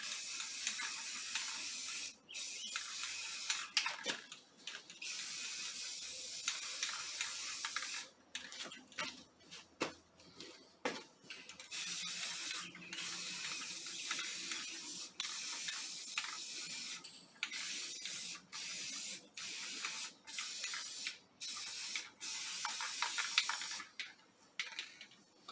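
Spray paint hisses onto Mustang Torino wheel covers in repeated bursts, each spurt a sharp airy hiss followed by short pauses, close and fairly quiet, continuing on and off.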